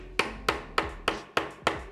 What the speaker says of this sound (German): Und jetzt brauchen wir nämlich den Hammer